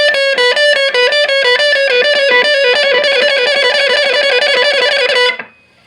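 Distorted electric guitar lead played through a Randall RG80 combo amp with reverb off, a rapid run of repeated notes that cuts off abruptly at the end with no lingering tail.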